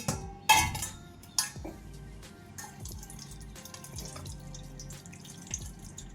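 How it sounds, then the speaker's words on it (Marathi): Beetroot washed in clean water at a kitchen sink, with sharp splashes and clinks of a pot or bowl, then softer drips and trickling. "एकदा छान स्वच्छ पाण्याने धुवून घेते."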